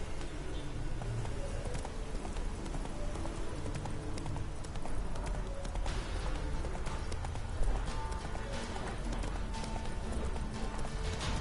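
Geralt's horse Roach galloping in The Witcher 3, a rapid, steady clip-clop of hooves running continuously under dense game ambience, with no speech.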